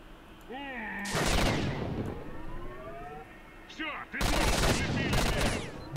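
Loud bursts of rapid gunfire in STALKER Shadow of Chernobyl, one short volley and then a longer sustained burst, with a voice speaking between the shots.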